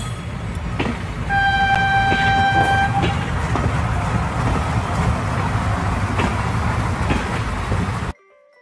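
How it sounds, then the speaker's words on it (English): A train rumbles past for most of the clip while its horn gives one steady, loud tonal blast early on, then the clattering run fades out abruptly near the end. "Now next train is coming, and this train is bringing some fruits."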